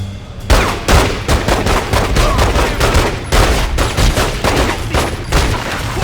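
Rapid, loud gunfire from The Godfather 2 video game, dense bursts of sharp shots in quick irregular succession, sustained throughout with no talk.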